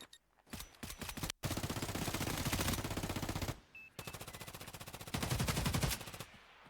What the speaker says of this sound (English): bullets ricochet back and forth over the courtyard